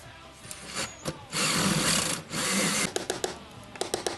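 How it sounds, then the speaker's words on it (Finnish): A power drill bores into a wall for a Wallas cabin fireplace installation, running in loud sustained bursts that stop and restart, with sharp scraping clicks near the end. "Poraamista jatketaan, kun ollaan päästy kaivertamisessa riittävästi eteenpäin."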